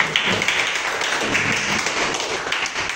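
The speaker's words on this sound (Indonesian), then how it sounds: "Tepuk tangan untuk kita" A classroom of schoolchildren applauds together in a steady, dense patter of close clapping that lasts throughout, with no talking over it.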